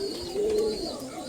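Pigeons at a dealer's loft near Canning station, including Malbai and Andra breeds, give a low, rolling coo that swells and fades over about a second, close and clear against faint background noise.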